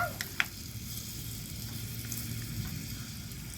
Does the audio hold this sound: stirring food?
yes